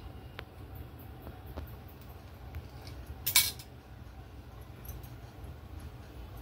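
Spoon cutting through rolled karanji dough, a short scraping burst midway with a few faint clicks before it, over a low steady background hum.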